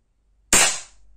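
A single sharp crack from a Crosman PFAM9B CO2 blowback pistol firing a BB into wood, loud and close, decaying quickly after the shot, with silence before it.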